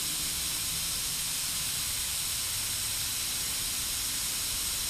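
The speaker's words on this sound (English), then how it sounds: "I've got the air turned on now." Compressed air hisses steadily through a workshop machine's coolant system, a constant broadband rush with no breaks or changes for the whole stretch.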